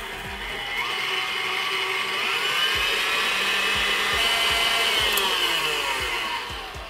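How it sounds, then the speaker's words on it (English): Electric mixer whipping coconut cream, a steady whirring motor drone with rising pitch sweeps, close and sustained for several seconds before winding down. "And then you just put it in and turn your mixer on"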